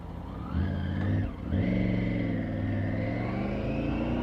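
A Triumph Tiger 850 Sport motorcycle rides through traffic with a loud, steady engine drone close by. The note dips briefly as the throttle eases, then climbs back and holds.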